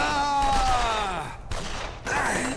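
Gunfire in the shooter video game Eat Lead: The Return of Matt Hazard, with sustained loud bursts layered with tonal game sounds and music, steady and close throughout.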